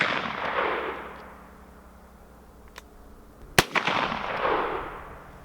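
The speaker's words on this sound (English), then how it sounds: "Nope, just 2 shots." A Pietta 1858 stainless steel black powder revolver firing a heavy, low-power bullet at a distant outdoor target: a faint early report, then one sharp, loud crack, with steady wind-like background noise.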